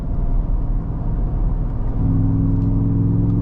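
A 2024 Ford F-150 Raptor R accelerates under throttle, its engine rumble deepening and swelling as the exhaust opens up partway through, heard loud and close from inside the cab.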